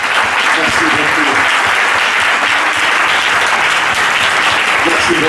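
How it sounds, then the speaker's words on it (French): A church congregation applauds together, a dense, loud, continuous wash of clapping that holds steady without a break. "we clap our hands for the word?"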